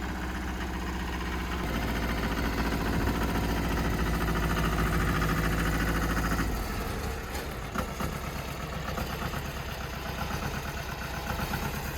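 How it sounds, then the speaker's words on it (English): A tractor engine runs steadily at a rough idle on a hillside property, a continuous low rumble that stays loud throughout, with a shift in tone partway as the load or throttle changes. "It's his first time using my tractor"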